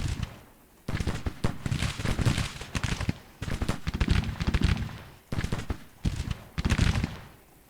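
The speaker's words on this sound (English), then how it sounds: "let's see if these guns are firing now" Civil War artillery firing in the Grand Tactician: The Civil War strategy game, with several loud bursts of booming, crackling gunfire repeating at irregular intervals and nobody speaking.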